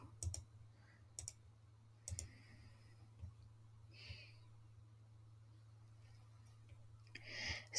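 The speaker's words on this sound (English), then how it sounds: "We will click on continue." Computer mouse clicks on a web login portal: a few sharp, faint clicks spaced about a second apart over a low electrical hum, with no talking.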